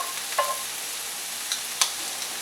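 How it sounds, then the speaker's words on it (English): Shrimp and butter frying in a cast iron pan while making shrimp and summer vegetable pasta, a faint steady sizzle with a few brief clinks of stirring, no talking. "I want to take the butter that I just put in the pan and I kind of want to almost kind of burn it to the cast iron a little bit"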